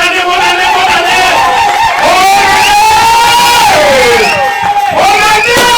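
A church congregation cheers and acclaims God at a New Year's Eve 2026 vigil, a loud, sustained crowd roar with voices rising and falling together and no pause throughout.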